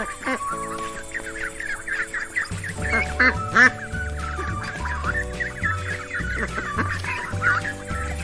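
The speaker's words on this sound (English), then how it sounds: "Duck." A duck quacks in a series of close, nasal calls laid over a backing music track with steady bass notes, the quacks recurring through the whole stretch.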